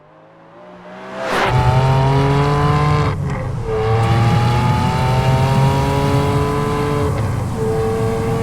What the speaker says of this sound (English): I give you the Ferrari 575M.